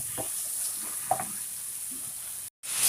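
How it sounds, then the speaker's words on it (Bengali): Green chilli, tomato, turmeric and chilli powder sautéing in leftover fish-frying oil, a steady close sizzle with a few soft spatula scrapes, broken briefly by a short silent gap near the end. "কাঁচামরিচ টমেটো রেডি, ভালো করে কষে নেব।"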